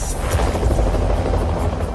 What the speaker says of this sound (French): un hélicoptère de la police, Eagle One, est déjà sur place